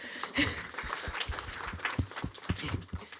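Scattered, modest applause from a small audience, uneven claps rising and falling, with a faint chuckle early on.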